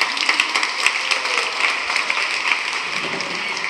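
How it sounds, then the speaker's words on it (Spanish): Church audience applauding for the women, a steady, dense wash of many hands clapping together, fairly close and continuous throughout with no talk. "Aplauso para las mujeres, por favor."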